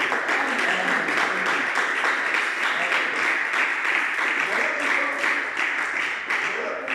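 A congregation at a French-language church service claps together in dense, steady applause that fills all seven seconds at an even, fairly loud level before easing slightly at the end.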